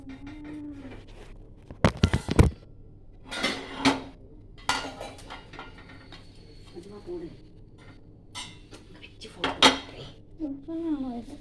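A cheese sandwich is lifted and set onto a plate in a home kitchen, with sharp clattering of dishes and utensils in brief bursts, someone talking between them and a low background hum.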